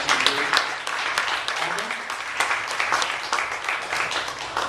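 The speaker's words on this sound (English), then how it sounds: "Give them a round of applause." An audience at a club gathering applauds, a sustained patter of many hands clapping at moderate volume while a person keeps talking over it.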